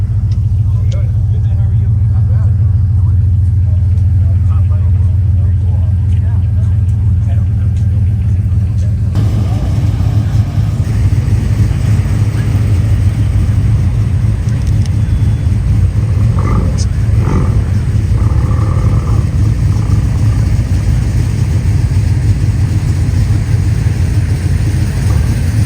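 A loud, steady engine idles and rumbles throughout, with a deep continuous drone that shifts slightly in tone partway through.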